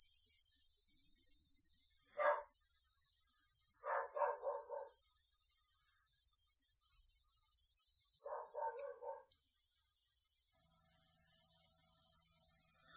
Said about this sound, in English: barking at the mailman probably in the background there